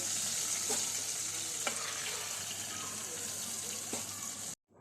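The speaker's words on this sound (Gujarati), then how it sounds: "હું બીજી પણ એવી રીતે તળી લઉં છું." Surti ghari sweets deep-frying in hot oil, a constant dense bubbling sizzle held close and loud, with a few faint clicks of a utensil, cutting off abruptly at the end.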